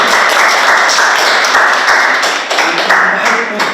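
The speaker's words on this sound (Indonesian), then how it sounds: "Tepuk tangan dulu." Audience applause breaks out at a talk-show style interview, a dense steady patter of many hands clapping continuously and fairly loud, with a little crowd noise mixed in.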